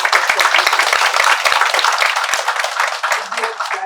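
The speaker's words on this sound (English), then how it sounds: "let's give them a big round of applause" Audience applause at a book launch and discussion, dense sustained clapping from a crowd that fills the room loudly and evenly throughout, with a few sharper individual claps standing out.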